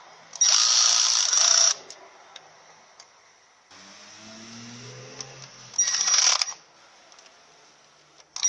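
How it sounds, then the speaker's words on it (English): A power driver runs bolts into a Ford BTR M74 four-speed automatic transmission's rear servo cover in two loud, whirring bursts of about a second each, separated by quieter ratcheting and tool handling. "Now I can put the other bolts in and do that up slowly"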